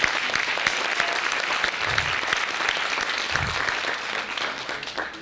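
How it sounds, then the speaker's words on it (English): A roomful of seniors and guests at a school district's pre-Thanksgiving luncheon claps steadily, a dense continuous wash of hand claps with a few sharper individual claps standing out, no talking over it. "Let's give everyone a round of applause."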